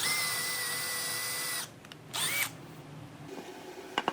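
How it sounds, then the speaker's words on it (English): A power drill bores a hole for a woodworm screw into a maple bowl blank, whining steadily up close for over a second, then stopping, with a short second burst and a few faint clicks afterward. "So drilled for a woodworm screw there after finding center"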